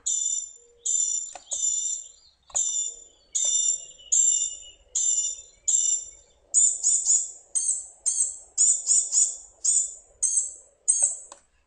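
Very high, buzzy 'z' calls from a gnatcatcher, repeated persistently and evenly about once per second, fairly clear and close against a quiet background.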